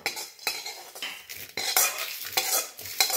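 Whole cloves roast in a dry pan and get stirred with a metal spoon, making a string of scraping, rattling strokes with a faint sizzle between them. No one speaks.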